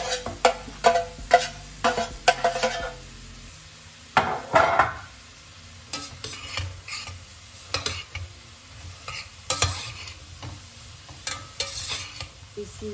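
Leeks being added and stirred in butter in a pot, a spoon scraping and knocking against the pot in repeated irregular strokes over a gentle sizzle, close and clear, without talk.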